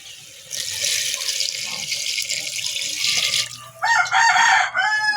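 Water pours steadily into a pot for tinola for a few seconds, nearby; then a rooster crows loudly close by.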